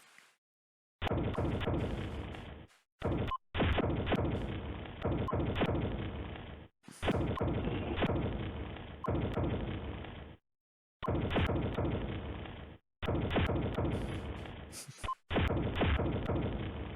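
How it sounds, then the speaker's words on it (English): Repeated missile hits land on a player in a Battlegrounds tournament match, a run of dense crashing thuds in bursts, each lasting a second or two with short silent gaps between them, loud and close. "Somebody is shooting that guy with missile shots"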